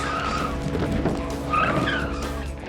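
Car tires skid and squeal loudly during hard braking tests, two long screeching bursts over the engine noise, close and continuous.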